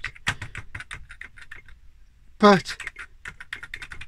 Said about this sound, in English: It actually feels okay when you're typing.